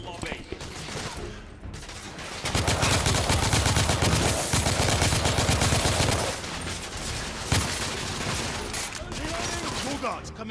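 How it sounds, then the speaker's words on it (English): Sustained automatic gunfire in a firefight from the video game The Order: 1886, dense and loud through the middle with quieter shots at the edges and effects mixed in. "I'm taking suppressing fire!"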